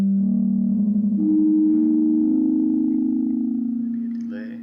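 Synth tone processed through a reverb effect in the Renoise Redux VST plugin, a sustained pitched note that shifts upward and holds, then gently fades with a lingering wash at the end.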